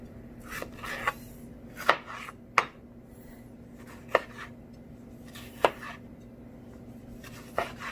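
Vegetables chopped with a knife on a board for pork with tomato and green beans, a handful of sharp, irregular taps spaced a second or so apart over a quiet, humming room background.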